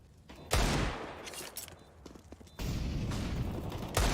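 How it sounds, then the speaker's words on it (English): Pistol shots ring out in a Counter-Strike firefight on the Train map during a pro esports match, a few sharp loud bursts over dense in-game gunfire and movement. "Boxhalls firing back and unable to catch anything with his sidearm"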